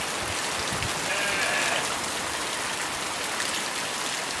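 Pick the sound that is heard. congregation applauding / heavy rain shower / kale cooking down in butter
heavy rain shower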